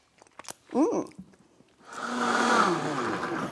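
An electric mixer whirs through chocolate sweet potato pie filling, starting after a short stretch of speech and running as a steady, moderately loud buzzing drone for the last couple of seconds.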